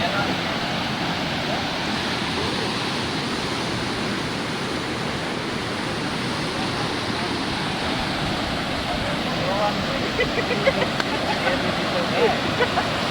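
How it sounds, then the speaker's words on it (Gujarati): Loud, continuous rushing of a flooded village river, a dense roar of churning water that stays steady throughout, with faint voices near the end. "જો કેટલું પાણી જાય છે તમને દેખાડું જો આપણે આ ગામની નદી છે"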